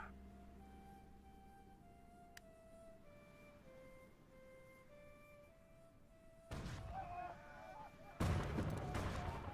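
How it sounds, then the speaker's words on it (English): Two nuclear bombs detonate in the strategy game Hearts of Iron 4: soft game music plays, then two heavy, booming blasts hit in quick succession, the second louder and longer. "these 2 nuclear bombs go off"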